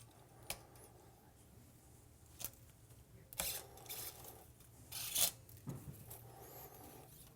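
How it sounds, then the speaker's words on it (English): Guitar strings being unwound from the tuning key posts of a Floyd Rose electric guitar: soft scattered rasps, rubs and metallic scrapes, close and fairly quiet, in a few short bursts. "just take them off the tuning key posts, unwind them, and pull them through the back side of the nut"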